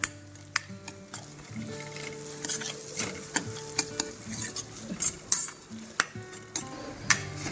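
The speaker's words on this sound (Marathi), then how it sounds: "छान ही कैरी सुद्धा या कांद्यासोबत परतून घ्यायची आहे।" Onion and raw mango with a pinch of salt being sautéed in a pan for a chigor leaf vegetable dish, with repeated utensil scrapes and taps over a soft, steady sizzle.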